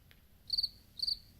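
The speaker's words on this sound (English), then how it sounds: "That's the cricket noise." A cricket-chirp sound effect plays twice, two short, faint, high trills about half a second apart over a quiet background.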